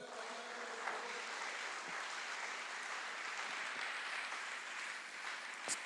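A church congregation applauds during a French-language sermon on the seven seals, a steady, dense wash of clapping sustained for several seconds at moderate distance, with no voices over it.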